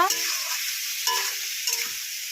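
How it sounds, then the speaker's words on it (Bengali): Spice paste for a koi fish and cauliflower curry sizzles hard in a pan, with three bursts of stirring scrapes at roughly even intervals over a steady frying hiss. "যাতে মশলাটা কষানো যায়"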